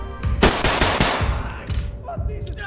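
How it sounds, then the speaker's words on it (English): RPK machine gun fire in a video game, a quick burst of several loud sharp shots in rapid succession followed by scattered fainter gunfire. "that was an RPK, that's scary"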